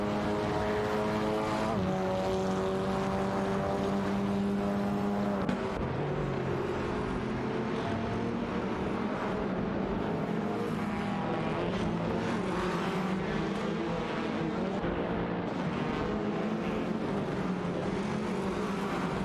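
Touring race cars, including a Honda Civic and a Lada Vesta, battle side by side in a racing video game, their engines droning loudly and continuously with shifting, overlapping revving tones throughout.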